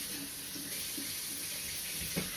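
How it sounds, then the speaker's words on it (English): Soaking water pouring off Great Northern beans into a kitchen sink, a steady close rush of running water with a few soft gurgles and splashes. "Drain that water off."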